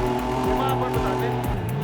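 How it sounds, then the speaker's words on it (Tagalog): Car engine noise in the video game GTA 5: a steady, loud engine drone with shifting tones and revving sweeps, continuous throughout the short stretch with no pauses. "Wala akong marinig, ang ingay ng makina."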